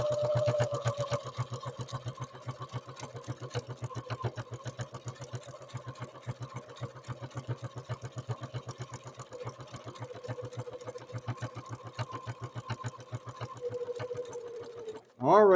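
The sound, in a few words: Necchi NE30 sewing machine stitching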